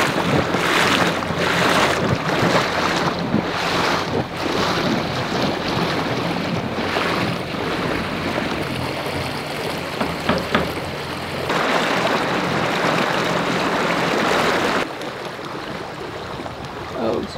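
A trawler cruising through a freshwater fjord: steady engine rumble with water rushing along the hull and heavy wind buffeting the microphone throughout.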